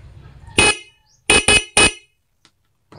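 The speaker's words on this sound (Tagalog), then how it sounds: "So dapat kapag pinindot ko to, tutunog yung ating stock horn" A car's stock horn honks four times, one short blast followed by three more close together, loud and near, with quiet between.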